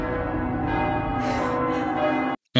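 Bells ring out over a city in a fantasy television battle scene, a sustained resonant peal under dramatic score for about two seconds before a sudden cut, then sound resumes briefly.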